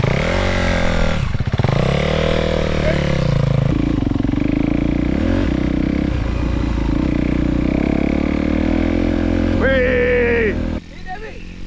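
A dirt bike engine revs hard and continuously up close while being ridden, its note rising and falling, with loud excited voices shouting over it.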